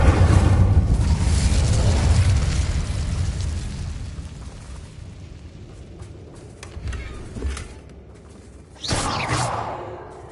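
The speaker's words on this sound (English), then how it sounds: "Incendio!" Incendio fire spell from Hogwarts Legacy bursts with a roaring whooshing blast that slowly fades, followed by scattered crackles and a second sharp flare of flame near the end.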